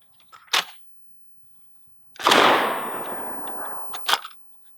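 A DDI 12-gauge Puma bullpup shotgun, based on the QBZ-95 rifle, fires a single loud blast whose echo trails off over about two seconds, with sharp mechanical clacks from the action just before and after.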